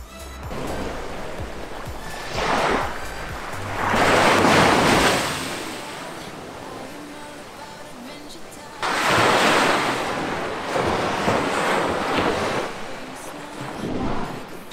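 Sea waves washing onto a beach in slow swelling surges with steady wind buffeting the microphone, broad and fairly loud, with no talking.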